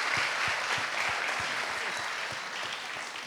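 Audience applause from a crowd in a studio talk show, dense steady clapping that tapers slightly toward the end, with a faint voice underneath.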